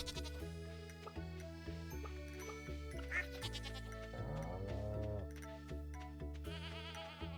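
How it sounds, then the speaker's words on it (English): Petted chickens and ducks give short synthetic bleating and quacking calls in Stardew Valley, several of them in a row over steady, tonal background game music. "I've forgotten to pet these chickens and ducks for God knows how long"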